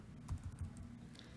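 Soft, close keystrokes on a computer keyboard, a brief cluster of quick taps followed by lighter scattered presses, faint and alone.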